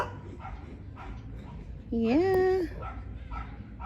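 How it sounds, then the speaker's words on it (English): A dog lets out a single drawn-out, yelping bark toward a neighbor's dog, fairly close and loud above a quiet outdoor background, with a person speaking briefly. "We're barking at the neighbor's dog."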